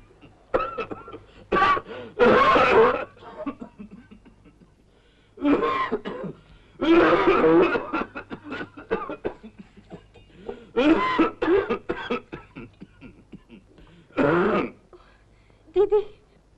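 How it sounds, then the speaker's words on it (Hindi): An old man in a 1950 Hindi film scene has a heavy coughing fit, harsh repeated coughs and throat clearing in loud bursts separated by short wheezy pauses, close and alone. "दिन ब दिन पिताजी की खांसी बढ़ती ही जा रही है। सुनो तो किस कदर जोर का दौरा पड़ा है।"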